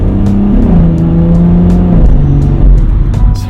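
BMW F22 M240i xDrive with XHP Stage 3 transmission tune, revving hard through gears, loud and close, with repeated sharp ignition-cut cracks at each shift over a steady engine roar.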